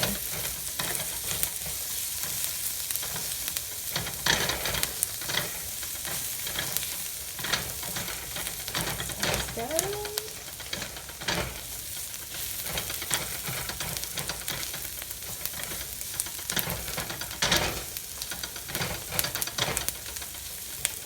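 Onions stir fried in a hot wok for Singapore style bee hoon (rice vermicelli), with a continuous close sizzle and frequent scraping strokes of a spatula.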